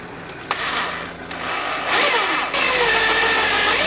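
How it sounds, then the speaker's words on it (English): An 8mm bit drills through a metal bracket for a pedal-powered washing machine, the motor whining loud and steady with a few catches and pitch shifts as the cutter works through the hole. "And now I'll go through the 8mm drill."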